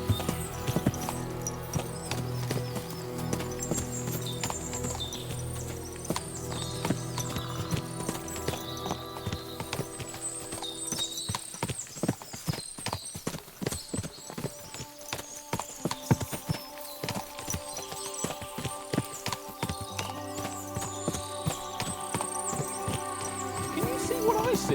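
Hooves clip-clop in a continuous rapid patter of sharp knocks, several horses moving together in the video game Kingdom Come: Deliverance II, over a layered musical backdrop, with occasional voices.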